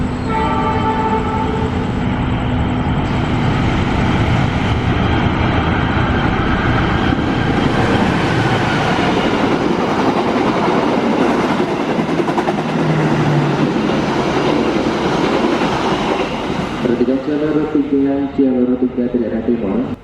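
A long Indonesian passenger train passes close by, a steady loud rumble of wheels and carriages lasting throughout, with a horn-like tone near the end and voices talking faintly underneath.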